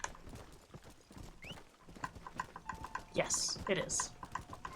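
Horse hooves clip-clop in the Western video game Red Dead, steady close steps with a brief whinny-like burst, while someone speaks briefly over them.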